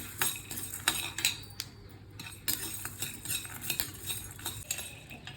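Peanuts, coriander seeds, cumin and fenugreek roast in a dry kadai as a spoon stirs them, giving repeated scraping clinks and rattles at close range, uneven in rhythm.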